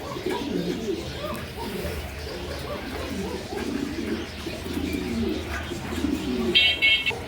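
Lahori pigeons coo softly and repeatedly in low, rounded calls, close by and steady, with a faint high chirp near the end.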